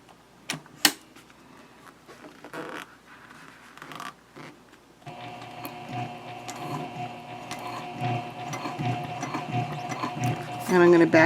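Sewing machine stitching a handbag: scattered clicks and fabric handling, then a steady, buzzing mechanical whir with fine rapid ticking that runs without pause to the end, close and moderately loud.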